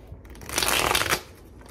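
A quick riffle of a deck of cards being shuffled, a brief papery flutter lasting under a second, close and fairly loud.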